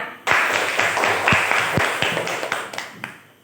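A small group claps for everyone at a classroom session, a brief burst of scattered hand claps close by that thins out and fades within a few seconds.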